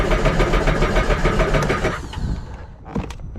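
A Sea-Doo 4-stroke watercraft engine cranks in drown mode with the throttle held, a rapid rhythmic chugging for about two seconds that then stops. A few faint clicks and clunks follow.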